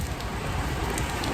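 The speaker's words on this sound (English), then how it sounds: "the rain is getting back all the time." Steady rain falls on surfaces during autumn in St. Petersburg, a dense, even patter and hiss that holds at a constant level throughout, with no voices.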